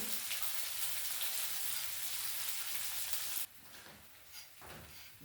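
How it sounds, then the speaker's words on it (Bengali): Yogurt is beaten in a bowl during village-style cooking, giving a steady close wet rattling and scraping that stops abruptly, followed by a few quieter, scattered strokes. "এগুলো দইটা ফেটিয়ে নেবো ভালো করে"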